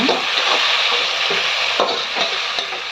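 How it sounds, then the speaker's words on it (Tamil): Tomatoes fry and sizzle in hot oil in a pan for South Indian mochai kuzhambu, with a loud steady hiss and a few scraping stirs of a spoon, close up and without talk. "தக்காளி சேர்த்துட்டு நல்லா கலந்து விடுங்க"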